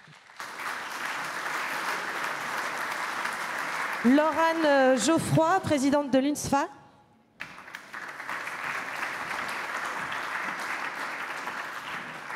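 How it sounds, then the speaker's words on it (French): A large conference audience applauds in a dense, sustained wash. It breaks off while a man announces a name over a microphone, then the clapping resumes just as fully after a short pause. "Vous pouvez applaudir nos invités"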